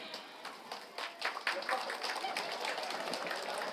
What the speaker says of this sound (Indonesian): tepuk tangan pas makanya.